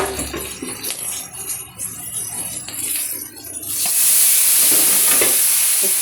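Turmeric and ginger hit hot oil in a wok, with quieter stirring at first, then a loud, sustained, close sizzle erupting for the rest of the clip.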